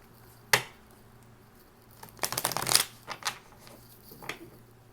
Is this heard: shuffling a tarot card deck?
yes